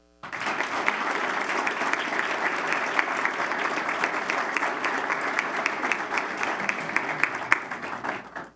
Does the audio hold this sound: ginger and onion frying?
no